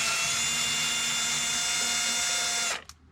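A power drill runs steadily and loudly, backing screws out of a plastic steering column cover on a 2004 Honda Element, then winds down and stops near the end.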